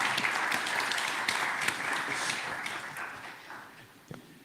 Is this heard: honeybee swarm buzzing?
no